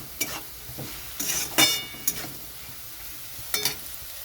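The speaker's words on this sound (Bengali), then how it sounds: "মশলাটা দেওয়ার পরে একটু এরকম ভেজে নিতে হবে" Spices with Kashmiri chilli powder frying in a pan, with a sizzle beneath several sharp scraping stirs in irregular bursts, close and clear.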